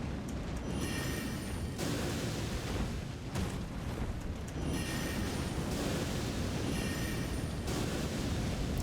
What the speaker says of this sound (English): Just fill the hall with fire and explosions.